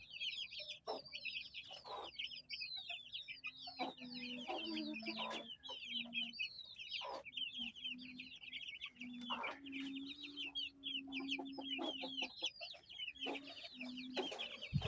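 Forty-five-day-old broiler chickens kept under a warming light keep up a soft, steady chorus of clucks and chirps, with a low intermittent hum underneath.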